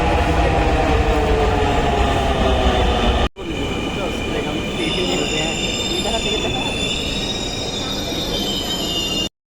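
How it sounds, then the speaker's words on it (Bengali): A Dhaka metro rail train arrives at a crowded station, its loud rolling rumble joined by high squealing wheels as it slows, with a brief cut midway and a voice talking over it. "অবশেষে মেট্রো রেল চলে আসলো"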